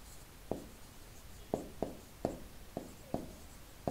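Hand-written strokes on paper during a class 6 maths lesson: six short scratchy pen taps and strokes spaced irregularly, close and fairly quiet, with no talking.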